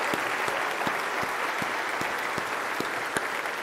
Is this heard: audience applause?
yes